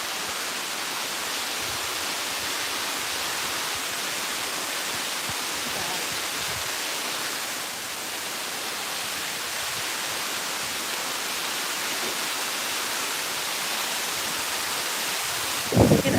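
Rushing waterfall water roars close and loud as people wade slowly over rocks, a steady broadband wash that holds unbroken throughout, with a brief clatter right at the end.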